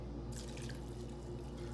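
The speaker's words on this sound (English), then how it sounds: "I'm just going to add the chicken broth" Chicken broth poured into a plastic Rapid Ramen cooker holding noodles, a steady low splashing pour that runs on close by without talking.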